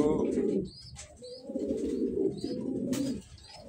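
Pigeons kept as pets coo nearby in overlapping low murmuring phrases, with a short pause partway through and a few higher chirps above.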